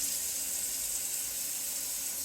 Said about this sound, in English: let it run until all the water drains out of the pipes